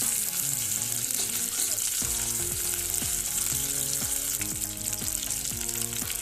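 Whole spices frying in hot oil give a loud, continuous close sizzle and crackle for the start of egg fried rice, with faint tonal music running underneath.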